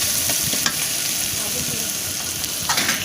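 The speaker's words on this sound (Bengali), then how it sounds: "তারপর মরিচ দিয়ে ভালো করে নেড়ে চেড়ে দিতে হবে" Chilies frying in oil in a pan while being stirred over and over, a dense close sizzle with repeated scraping strokes of a spoon, and no talking over it.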